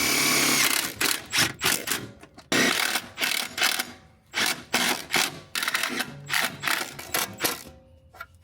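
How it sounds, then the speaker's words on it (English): A power drill drives self-tapping screws into steel gussets on a twisted frame rail of a BMW G80 M3, with repeated short whirring bursts broken by brief pauses, close and loud. "These self-tappers are going to provide two functions. Number one, they're going to hold these gussets in place for now"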